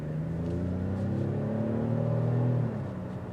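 A 2022 Cadillac XT5 Sport accelerates from low speed, its engine note rising smoothly over a few seconds under a steady road hum, then easing off near the end.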